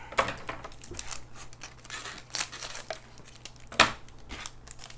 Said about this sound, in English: So let's open up this bar and take a look.